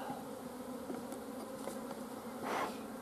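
Honeybees hum steadily through a winter brood inspection of an open hive, a dense continuous buzz close by with a brief louder swell near the end.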